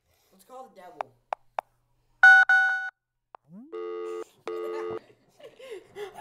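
Phone dialing tones in the horror game Sara Is Missing: short beeps and clicks, then two bursts of repeating dual-tone ringback signals, loud and close, with brief voice sounds before and after.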